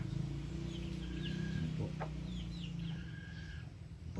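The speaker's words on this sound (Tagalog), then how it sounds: "labuyo po yan mga idol" A labuyo, a red junglefowl rooster, gives soft, low clucking calls over a steady outdoor background, faint and somewhat distant, with a few higher chirps mixed in during the short stretch.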